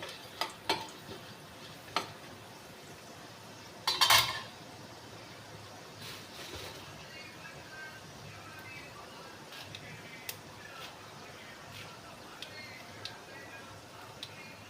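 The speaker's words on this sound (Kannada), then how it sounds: "1-2 ಸ್ಪೂನ್ ಆಗುವಷ್ಟು ಉದ್ದಿನ ಬೇಳೆನ ಹಾಕಿ ಫ್ರೈ ಮಾಡ್ಕೊಳ್ಳಿ" Urad dal fries in oil in a pan for shavige uppittu, a quiet continuous sizzle with scattered spoon taps and one brief louder scrape, no speech.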